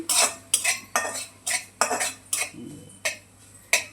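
White wheat semolina (upma rava) is roasted and stirred in a pan, a utensil scraping and knocking against the metal in regular strokes roughly every half second, with a soft dry rustle between.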